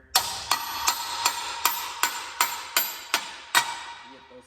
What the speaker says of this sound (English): You do have to take a hammer and do a little bit of pounding